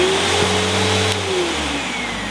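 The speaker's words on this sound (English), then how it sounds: "This light, we'll turn the vacuum on again." A vacuum cleaner switched on and running, its motor giving a steady, fairly loud whine that dips slightly in pitch partway through, with no one speaking.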